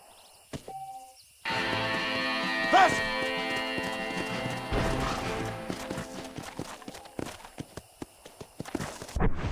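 Horse hooves clip-clop in the Red Dead Redemption video game on Nintendo Switch, steady rhythmic steps under sustained game music with a tonal whinny-like sound early on.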